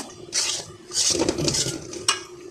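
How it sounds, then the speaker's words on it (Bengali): Food frying in oil in a pan hisses, broken by metal utensil scrapes and a sharp clink near the end, close and moderately loud, no voices. "এখন আমি এই যে বুঝি এগুলো ভাজবো তেলের ভিতরে"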